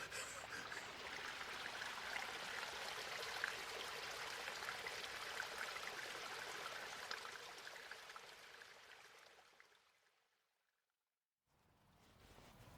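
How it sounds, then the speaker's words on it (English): Water gurgles and trickles steadily in a farm stream, a close, continuous babble that fades toward the end, drops briefly to near silence, then returns. "This wonderful gurgling water as well."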